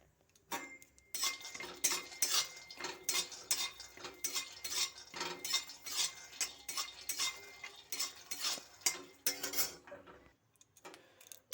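Raw peanuts are dry-roasted in a kadai (wok) and stirred, giving a steady run of rattling, clinking scrapes in quick irregular bursts for about ten seconds, close and moderately loud, with no talking.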